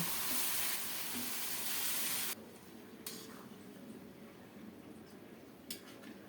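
Spinach hits hot mustard oil with browned crushed garlic in the pan, giving a loud, steady sizzle that drops back after a couple of seconds to a softer, continuous frying crackle.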